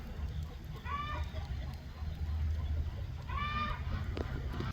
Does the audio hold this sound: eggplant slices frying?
no